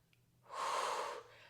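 Breath during a no-equipment full-body Pilates workout, a single soft airy exhale lasting under a second, close and fairly quiet, with no talking.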